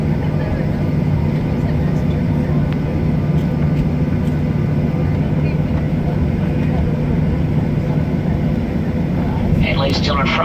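Jet engines of a Delta Air Lines Boeing 737-700 on takeoff from Key West, heard from inside the cabin as a loud, steady low roar that fills the whole stretch, with a brief higher sound near the end.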